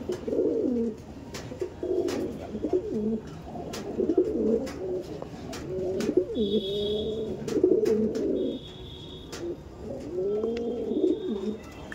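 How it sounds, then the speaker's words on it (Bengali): Andhra pigeons coo repeatedly in throaty, rolling phrases close by, with scattered sharp clicks and brief higher chirps between the calls. "দেখুন মানে পায়রা ছাড়ার সঙ্গে সঙ্গে কোনো পায়রা যে বসে আছে এরকম কিন্তু না"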